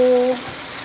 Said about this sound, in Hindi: और इसको थोड़ा सा फ्राई होने दीजिए।